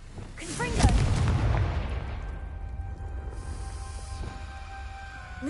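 A Confringo spell blast goes off in a Harry Potter video game, a sharp booming burst near the start that rumbles and fades into a lingering low tail, with brief faint voice under the blast.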